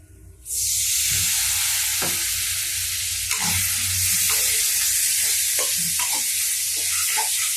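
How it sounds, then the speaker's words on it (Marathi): Water hits hot masala for egg bhurji in a pan and sets off a loud, continuous sizzle, with faint scrapes and taps of stirring throughout and no voices. "आता थोडंसं मी पाणी टाकणार आहे."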